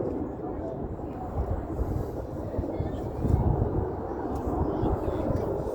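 Red Arrows RAF jets of the synchro pair roaring through an air display at RAF Cosford, a loud, sustained low rumble that swells briefly as they pass, with a commentator's voice running over the engine noise.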